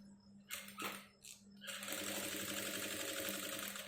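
A sewing machine stitching during tailoring, misbehaving with overly tight thread: a couple of brief mechanical bursts, then a steady, fast, close whirring run of stitches to the end.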